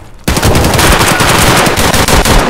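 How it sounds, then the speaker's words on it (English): Automatic gunfire in the video game Escape from Tarkov, a loud close burst of rapid shots that starts abruptly and rattles on continuously for over two seconds, no voices over it. "I just shot him in the fucking mouth!"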